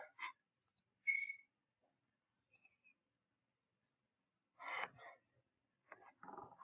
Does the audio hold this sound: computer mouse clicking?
yes